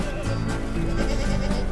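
Small goats bleat by the roadside, heard from inside a passing vehicle. The calls are short and moderately loud over a constant low rumble of road and engine noise.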